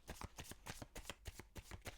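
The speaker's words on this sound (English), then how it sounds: "let's take a couple more cards for it though" Tarot cards being shuffled by hand, a close, quiet riffling in quick regular strokes, roughly ten soft snaps over two seconds with no talking.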